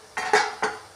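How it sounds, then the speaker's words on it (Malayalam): Beetroot thoran is stirred in a pan, giving two or three quick scraping clinks of a spoon against the metal, close and brief, with no voice. "ഒന്ന് ഇളക്കി കൊടുക്കാം."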